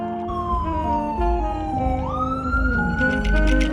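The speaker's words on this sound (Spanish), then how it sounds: "Las ambulancias, policías, en todo momento estás escuchando sirenas de cualquier cosa." Police and ambulance sirens wail on a Bronx, New York street, a loud sweeping tone that drops and then rises again over steady traffic rumble, with no voices.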